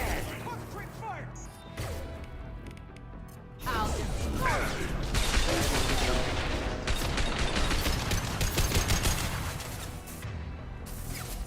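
Gunfire from a firefight in Mass Effect 2, a sci-fi shooter, with rapid bursts of shots and impacts growing dense and loud after the opening seconds, mixed with game effects and occasional talk.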